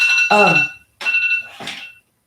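An alarm goes off indoors in two loud, close electronic bursts separated by a short gap, with a voice partly mixed in.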